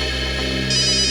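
A phone in a crime drama rings with an incoming call, its steady electronic ringtone droning loudly and continuously over a sustained musical tone, with no talk over it.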